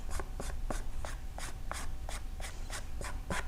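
Ink pad dabbed and rubbed across a paper card using the pad's flat surface for a distressed vintage look, a rapid regular series of soft brushing strokes, close and alone with no talk.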